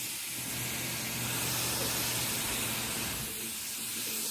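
Pressure washer spray hisses steadily onto grooved panels in a police-station renovation, a loud, close, continuous broadband rush that swells slightly as it sweeps back and forth, with no voices.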